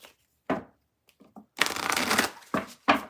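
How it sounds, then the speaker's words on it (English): Tarot cards being shuffled by hand at close range, in several separate riffling bursts of varying length with short pauses between them; no talking. "I'm going to shuffle"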